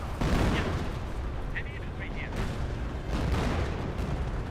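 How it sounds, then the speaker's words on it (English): Artillery and mortar fire rumbles through a Company of Heroes battle, with mortars shelling from high ground: a dense, continuous wash of booms and blasts with no pauses, fairly loud throughout. "Mortar firing away from the high ground."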